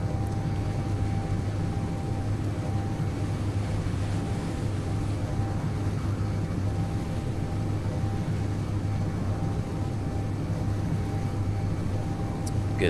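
A vehicle engine runs in a video game while drilling for oil on a red planet, a steady loud drone that holds unbroken throughout with a constant low hum.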